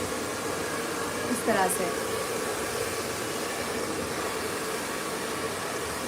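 A blow dryer runs steadily through a haircut on long hair, a continuous airy whoosh throughout, with a voice speaking briefly over it.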